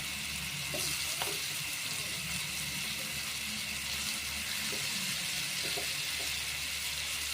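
Minced rui fish frying with spices in a pan, a steady, even hiss of sizzling oil throughout with a few faint clinks, alone with no talking.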